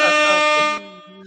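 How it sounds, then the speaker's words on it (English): A loud air horn sound effect blasts in one sustained, harmonically rich honk, then cuts to a quieter lingering tone, played as a celebratory sting on a wrestling talk show. "Everybody fucking air horns for Miss October 30"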